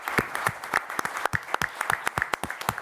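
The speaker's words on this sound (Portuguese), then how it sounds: "Vou pedir uma salva de palmas a todos os nossos mestres aqui." Applause from a conference audience in Milan, after a panel debate on new platforms, with loud, separate claps at an irregular rhythm, fairly close and thin, as if from a smallish group, with no talk over it.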